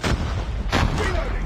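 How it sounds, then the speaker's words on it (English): A flashbang grenade goes off in Call of Duty Mobile: two sharp, loud bursts about a second apart amid continuous gunfire and game noise. "Flashbang!"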